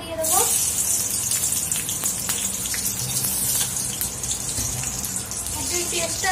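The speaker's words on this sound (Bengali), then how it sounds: "এবার এটাকে একটু ভালো করে ভেজে নেবো," Soya chunks, boiled and squeezed dry, fry in hot oil with a steady, loud hiss and crackle throughout, the dense sizzle holding without break.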